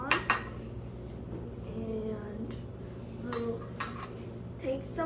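A frying pan clanks onto a stove while a child learns to make scrambled eggs at home, two sharp metallic knocks at the start and softer clinks later, under a low steady hum.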